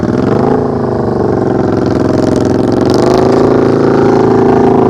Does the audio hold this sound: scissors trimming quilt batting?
no